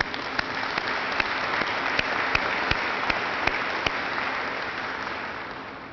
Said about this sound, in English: let's give them a round of applause for enduring.